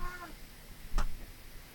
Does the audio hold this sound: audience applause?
no